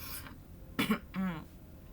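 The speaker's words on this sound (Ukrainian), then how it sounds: "щось мене почало пробувати на кашель" A short cough followed by a throat clear, close and fairly quiet, with faint background noise between them.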